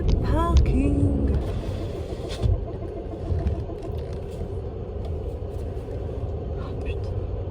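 Electric car rolling into a parking garage, a low steady rumble of tyres and cabin noise throughout, with a brief squeal and a couple of knocks early on and a voice talking over it.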